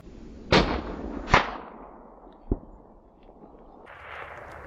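A .308 Spanish Mauser rifle firing outdoors at a distant target: two sharp, loud cracks close together, then a third, fainter report, over a low steady background with no speech.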